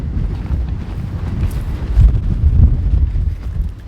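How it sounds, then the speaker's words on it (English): Strong wind blows outdoors in open backcountry, buffeting the microphone with a loud, deep, gusting rumble that swells and eases, with no voices. "It's super windy, as you can tell."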